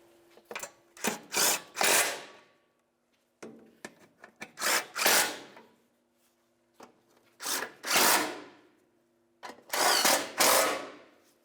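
A power tool snugs up the mounting bolts on a 2006-2012 Toyota RAV4's fuel vapor charcoal canister in four short, loud whirring bursts separated by pauses, close by.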